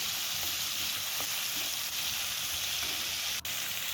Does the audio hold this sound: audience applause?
no